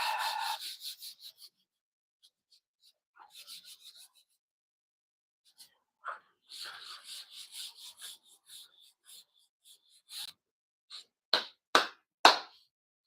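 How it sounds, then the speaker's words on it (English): Intermittent dry rasping strokes of 400-grit sandpaper sanding filler primer on a car hood, quiet and close, with pauses between bursts and a few sharper scrapes near the end. "I am using 400 grit and just kind of sanding down my filler primer"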